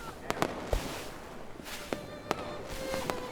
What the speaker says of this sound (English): And as we watched the fireworks